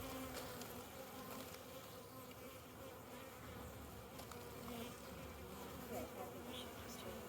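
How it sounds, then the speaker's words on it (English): A very large bee buzzes around a Flow Hive beehive, its steady drone mixing with the busy hum of many other bees close by for several seconds, with no talking. "Oh, see there, it's a very, very big bee."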